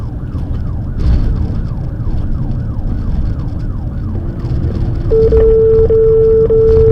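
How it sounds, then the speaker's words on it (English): A wailing police siren sweeps up and down steadily during a high-speed chase, joined near the end by a series of sustained steady radio tones paging an ambulance, loud and close. "So the tones of them paging the ambulance, put him on standby."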